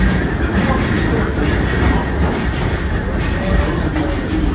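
Disneyland Railroad steam train Fred Gurley rolling steadily on its tracks at close range, with a continuous low rumble and faint rhythmic clatter from the wheels.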